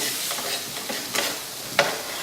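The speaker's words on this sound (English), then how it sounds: "You can kind of hear it when it's sizzling and popping like that" Food sizzling and crackling in a hot pan, a steady hiss with scattered pops and one sharper snap near the end.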